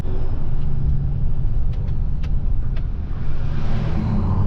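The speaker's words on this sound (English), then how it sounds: "There goes an Infinity truck." An Infinity Custom Harvesting truck drives past during the last day of harvest, a steady loud engine rumble with road noise that holds throughout, swelling slightly toward the end as the truck goes by close.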